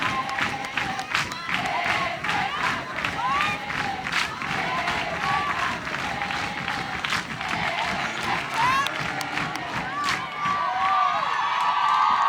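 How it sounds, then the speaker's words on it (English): Crowd cheering and shouting at the 2017 women's college lacrosse championship final between Dartmouth and Texas, loud and sustained throughout, with scattered whoops and high yells rising above a dense roar. "Crowd as loud as it's been today."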